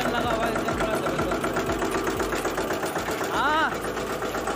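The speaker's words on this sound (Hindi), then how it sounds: "ये इंजन लगा हुआ है इंजन बड़ा जबरदस्त।" A large engine powering a village grain mill (chakki) thuds in a steady loud rhythmic chug with mechanical rattle, running continuously close by while someone speaks over it.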